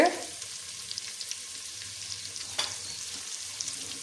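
Field beans (avarekai) fry in oil in a pan, giving a steady close sizzle with light stirring clinks scattered throughout.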